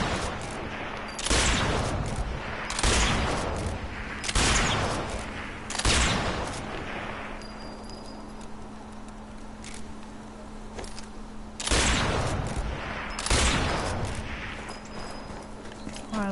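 Rifle gunfire from the M1 Garand in the video game Sniper Elite 4, with loud single shots spaced a second or two apart, six or so in all, each with a ringing tail and a pause mid-sequence.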